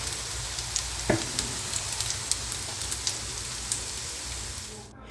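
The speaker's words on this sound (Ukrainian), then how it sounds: "Ось смажиться кабачкові оладки." Steady frying sizzle of zucchini fritters in a pan, with light crackles and pops throughout, close up and continuous.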